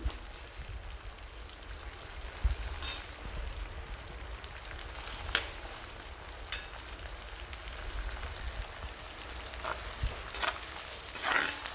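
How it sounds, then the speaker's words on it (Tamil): Steady soft crackling and sizzling of onions sautéing in a pan, with occasional sharper pops over a low background hum. "வெங்காயம் நல்லா வதங்கட்டும்"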